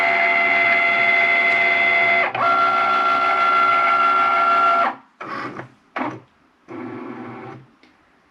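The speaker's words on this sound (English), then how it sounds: "I have it loaded into my machine. And I'm just going to hit the Cricut button that's flashing." A Cricut cutting machine running a print-and-cut job for a T-shirt gift, producing a loud, steady motorized whir with a tonal hum that breaks into shorter start-stop bursts as the carriage moves.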